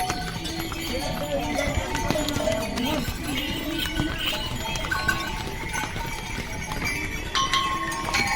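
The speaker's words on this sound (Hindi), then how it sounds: "तो ये यात्री घोड़े से जा रहे हैं ना" Horses carrying pilgrims clip-clop along a wet, slippery, foggy mountain path on the Kedarnath route in rain, their steady hoofbeats mixed with crowd noise while someone talks over them.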